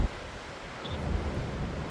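Strong gusty wind roars across a coastal hillside on the Lost Coast Trail, buffeting the microphone with steady broadband rushing and low rumble that swells louder partway through.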